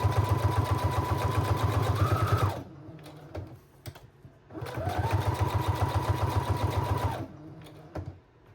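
A sewing machine runs a zigzag stitch around a paper ornament shaker, buzzing in two long, steady bursts with a rapid mechanical rhythm and a short quiet pause between them, close and alone.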